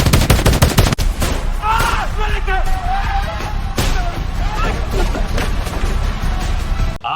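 Rapid anime-style gunfire bursts in a fight, a dense volley of shots at the start, then continuous loud crashing and impact noise with shouting voices over it.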